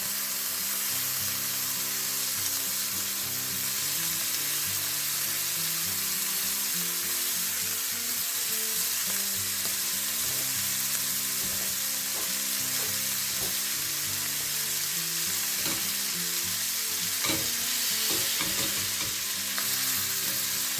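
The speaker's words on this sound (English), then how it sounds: "You just want to baste the scallops with the butter." Scallops pan frying in butter give a loud, steady sizzle that runs unbroken throughout, with occasional spits and crackles from the hot pan and no talking.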